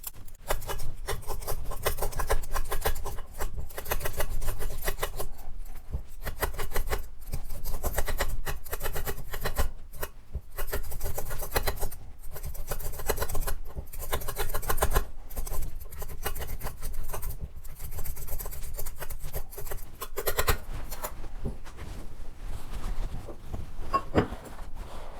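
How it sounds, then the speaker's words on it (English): A potato is peeled for a smoked mackerel corn chowder, giving a steady run of close, scraping rasps with a brisk, repeated rhythm and no talk. "Then peel the potato."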